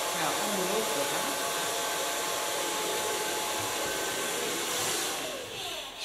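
Hair dryer blow drying an ultra-short pixie haircut, giving a loud, close, steady whooshing roar that holds for about six seconds and dips slightly at the end.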